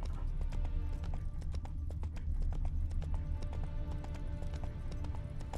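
Horse hooves clip-clop steadily in The Witcher 3 video game, a continuous rhythmic trot heard alongside the game's background music and ambience, with no talking.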